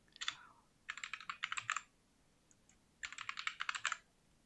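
Two quick bursts of password keystrokes on a computer keyboard, close and clear, with a couple of stray taps between them and no talking.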